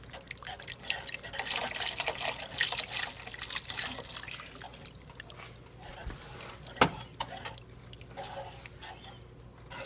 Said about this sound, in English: So it says slowly whisk it into the soup